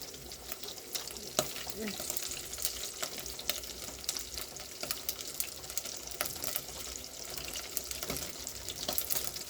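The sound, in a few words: meat frying in a pot for beef stew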